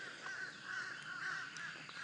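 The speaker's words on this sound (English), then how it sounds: "Oh, yeah, crows right overhead." Crows calling overhead outdoors on a quiet morning, a few harsh caws overlapping in quick succession, fairly clear and close, with no talk.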